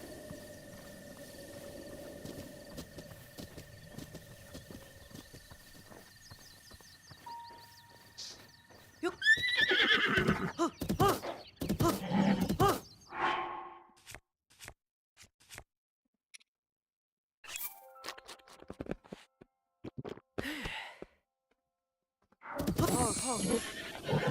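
A horse neighs and whinnies in several loud, shrill bursts separated by pauses, with some hoof clatter and background noise between the calls.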